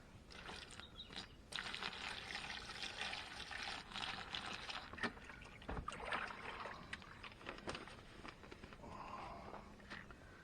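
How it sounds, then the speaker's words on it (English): Water poured from a container onto peat moss in a 5-gallon bucket, a steady wet trickle and splash that runs throughout with shifting intensity, fairly close and with no one talking. "Peat moss. Start watering it down now."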